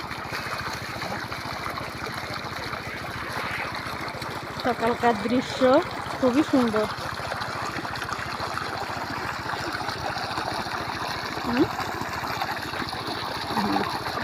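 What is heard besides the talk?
water being poured onto chilli plants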